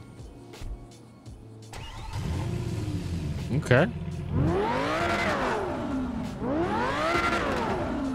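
Twin-turbo Lamborghini Gallardo in the video game GTA 5, its engine starting and then revving hard in two long rising-and-falling pulls, loud and close, after a brief spoken word.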